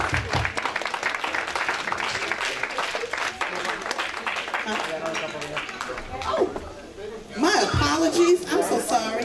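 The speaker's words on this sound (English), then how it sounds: "Dr. Enquanta and Mr. Enquanta, please give them a rousing round of applause" An audience breaks into a sustained round of applause at a civil rights event, dense clapping mixed with crowd chatter and a few voices, swelling again near the end.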